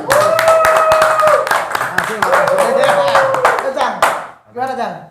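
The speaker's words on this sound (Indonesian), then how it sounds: "Jadi tepuk tangan lu dong untuk Cang" A small studio audience claps loudly and briskly for an arriving guest, dense close hand claps over a loud musical backing, then the clapping stops and a voice speaks briefly at the end.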